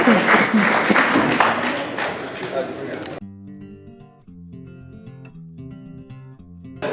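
Loud applause from a crowd at a wargaming convention panel, a dense wash of clapping that cuts off sharply about three seconds in, leaving quiet music.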